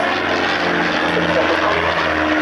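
Extra 300 aerobatic propeller planes flying in formation at an RAF Coningsby airshow in 1992, a loud steady engine drone with a buzzing propeller tone and faint commentary mixed underneath.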